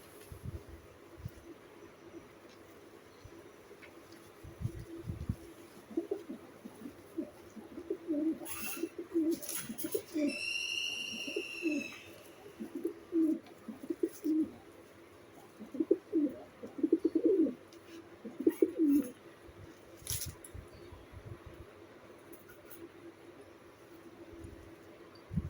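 Pigeons coo softly and repeatedly at close range, a string of low, throaty calls over quiet surroundings, with a brief higher chirping call and a few scattered knocks in between.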